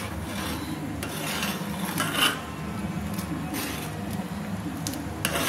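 Vermicelli (simai) with crushed fried nuts being stirred in a pan, giving a steady close scraping rasp with a few brief louder scrapes and clinks, no talking.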